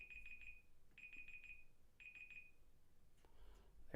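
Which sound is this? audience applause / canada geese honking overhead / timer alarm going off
timer alarm going off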